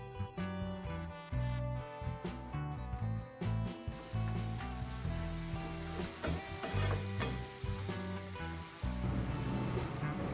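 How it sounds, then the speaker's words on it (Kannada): Chopped fenugreek leaves and crushed garlic fry in oil on a tawa, a loud close sizzle broken up by stirring scrapes and spatula knocks. "ಜೊತೆಗೆ ಕಟ್ ಮಾಡ್ಕೊಂಡಿರುವ ಈ ಮೆಂತ್ಯ ಸೊಪ್ಪು ಕೂಡ ಸೇರಿಸ್ಬಿಟ್ಟು ನಾವೀಗ ಫ್ರೈ ಮಾಡ್ಕೊಳ್ಳೋಣ"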